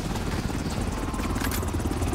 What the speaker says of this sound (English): Casually flopping out of the helicopter.